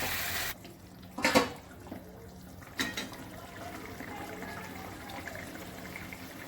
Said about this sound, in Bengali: এবার আমি জল দিয়ে দিচ্ছি, পরিমাণ মতো জল দিচ্ছি।